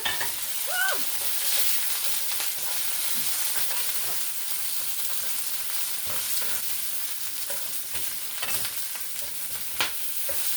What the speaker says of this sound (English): Give our apples a stir.